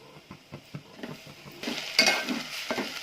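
Broken wheat stirred and roasted in a pan for a jaggery kheer, with a utensil scraping and tapping in a steady rhythm before a louder dry sizzling rustle builds, close and continuous, with no talk.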